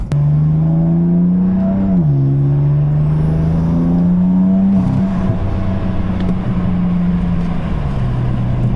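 A BMW F80 M3 fitted with a downpipe drones loudly and steadily from inside while driving, its engine note climbing and dipping with throttle changes and one brief shift, with no talking.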